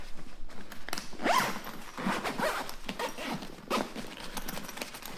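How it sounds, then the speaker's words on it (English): A backpack pocket on The North Face Kaban is zipped closed up close, with several quick rasping zipper strokes mixed with fabric rustling and handling noise. "So I'll zip that back up now."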